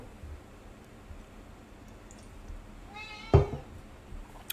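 A single short meow from a house cat waiting for its greenies treats, fairly close, rising out of a steady hiss of background noise with no talking.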